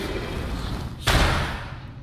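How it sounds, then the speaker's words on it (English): A shadow bolt spell cast in the vampire video game V Rising, a single sudden whooshing thump over a steady game soundscape that fades back down after a second. "A shadow bolt."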